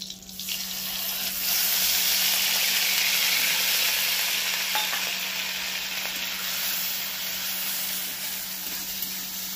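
Ground onion paste frying in a pan with whole garam masala for a festive Bengali meal, a loud, steady, hissing sizzle that swells after the first second and holds throughout.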